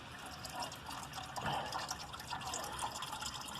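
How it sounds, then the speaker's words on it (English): Antifreeze pours through a cut milk-carton funnel into an ATV radiator, a steady trickling and gurgling of liquid that runs continuously at moderate level, with no talking. "this milk carton funnel thing kind of works"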